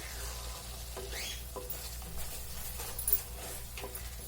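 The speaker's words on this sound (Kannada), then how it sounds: "ಚಿಲ್ಲಿ ಪೌಡ್ರು ಎಣ್ಣೆ ಮೇಲೆ ಬರೋ ತನಕ ಬೇಯಿಸ್ಕೋಬೇಕು" A masala with chilli powder cooks in oil for an egg gravy, producing a quiet, even sizzle with occasional soft stirring scrapes, faint and close, and no voices over it.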